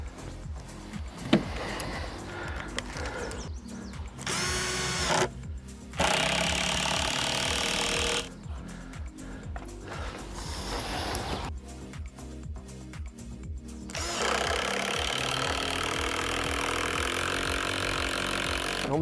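Power drill driving screws into scrap wood boards for a raised bed, bursts of whirring motor that stop and restart several times, close and fairly loud, with no talking.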